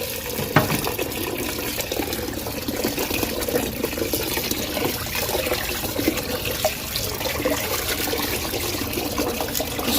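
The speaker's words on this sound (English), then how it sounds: "So I advise you wash your rice nicely." Rice being washed in water in preparation for jollof rice, a steady sloshing and trickling of water that runs unbroken and fairly loud throughout.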